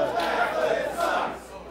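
A rowdy crowd at a championship wrestling show yells and cheers in a dense, roaring wash of voices, loud and sustained with slight surges and a dip near the end.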